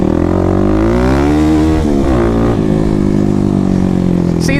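A 2021 Kawasaki KLX300 dirt bike fitted with a Barker exhaust roars loud and close on a rocky trail, its engine note rising and falling steadily as the throttle is worked, with no break in the sound.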